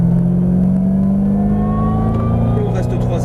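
A car on a track accelerates in third gear, its engine drone loud and steady and rising gradually in pitch as the revs climb, heard from inside the car.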